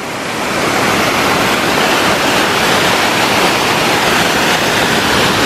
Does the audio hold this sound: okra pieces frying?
no